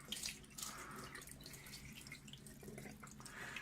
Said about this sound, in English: now I just use the water, tap water, lukewarm tap water, to rinse the mirror.